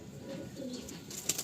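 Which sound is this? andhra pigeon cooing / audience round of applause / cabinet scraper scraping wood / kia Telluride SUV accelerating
andhra pigeon cooing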